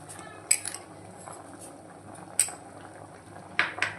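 Sweet potato and sago payasam being stirred in a pot, with a few sharp clinks of a spoon against the metal at the start, middle and end over a low steady simmering hiss, close and fairly quiet.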